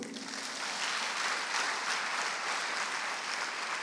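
Audience applause at a French-language church sermon, a dense, steady wash of clapping from many hands that holds at even strength throughout.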